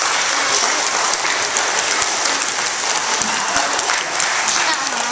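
Loud, continuous audience applause at a library magic show, a thick crackle of many hands clapping close to the microphone for about five seconds, with faint voices mixed underneath.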